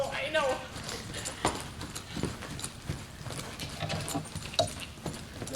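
A horse walks under a rider in an arena, its hooves clip-clopping in an uneven rhythm. Someone talks over the hoofbeats.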